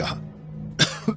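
A man coughs after being released from a choking grip in a horror story scene: two sharp, close coughs near the end, following a short quiet stretch.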